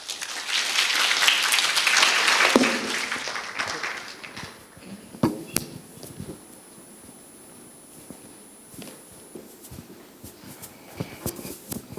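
Conference audience applauding to welcome the moderator, a dense burst of clapping for about three seconds that fades into scattered claps, shuffling and movement in the hall.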